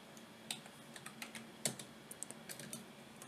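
Typing on a computer keyboard while entering a Linux terminal command, a quiet, irregular patter of key clicks with a few sharper strikes, close by and with no talking.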